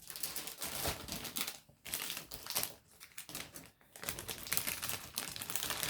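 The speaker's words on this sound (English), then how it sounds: "Sorry about the crinkling of the packaging." Plastic packaging of a model kit for an Amusing Hobby Porsche Tiger tank being crinkled and handled up close, a dense run of crackling bursts with brief pauses between them, no voice.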